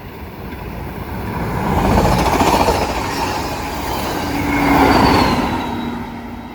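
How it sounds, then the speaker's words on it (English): A southbound Coaster commuter train runs along the coastal Surfline by the beach with a steady rumble and rail roar. It swells as the train draws near, eases, then builds again as the rest of the cars pass close by. "Next is a southbound coaster."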